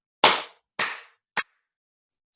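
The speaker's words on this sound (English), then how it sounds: "you're going to clap your hands really hard 3 times and then stop" Three hard, sharp handclaps from children, evenly spaced about half a second apart, each loud and ringing briefly in an otherwise quiet room, the third shorter, with the start of a fourth clap at the very end.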